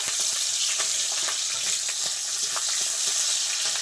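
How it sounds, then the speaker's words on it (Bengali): Green chillies and garlic fry lightly in a pan, giving a steady, close, even hiss of sizzling oil with small crackles and a few soft clicks, heard alone with no voices. "হালকা ভেজে নেবো কাঁচা লঙ্কা"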